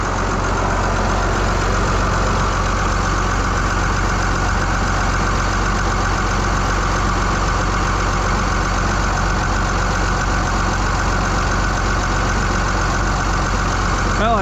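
A 1750 engine idles steadily and loud throughout after new injector tees were fitted, a continuous low rumble with a fine ticking knock and no breaks or voices.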